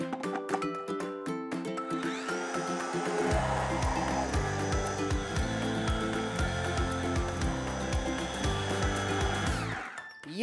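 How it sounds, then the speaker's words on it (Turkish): A food blender with its lid closed pulsing cooked ingredients, starting with short choppy bursts and then settling into a loud, steady whirring roar for several seconds before spinning down. "Arkasından kapağını kapatalım ve her şeyi güzelce bir dırtlayalım."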